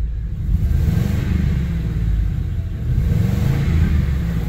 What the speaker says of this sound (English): Definitely got a nasty little exhaust leak or something that I miss